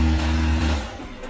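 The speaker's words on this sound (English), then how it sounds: "Volvo's wheels are slipping, the engine is working at stable revs." Volvo SUV engine holding steady revs while its wheels slip on a hill climb in an SUV contest, a loud, close, continuous drone that eases off slightly near the end.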